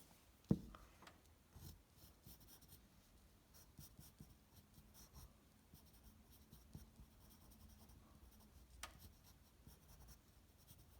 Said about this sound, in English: And then I use my pencil.